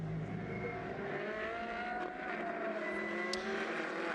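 Ferrari race cars in a Trofeo Pirelli race at Istanbul, a steady loud roar of high-revving engines with shifting pitch as cars pass, continuous throughout.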